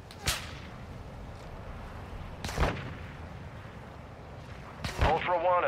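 Gunfire in Call of Duty DMZ: three sharp shots, spaced about two seconds apart, crack over steady game background noise, the last one trailing into ringing debris.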